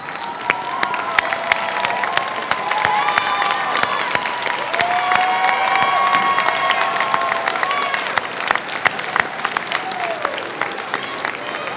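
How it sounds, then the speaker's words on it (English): High school graduation audience applauding and cheering for parents and guardians, sustained crowd clapping with whoops, shouts and a few children's voices rising and falling over nearly twelve seconds. "please stand so that we here in the front may thank you with a round of applause"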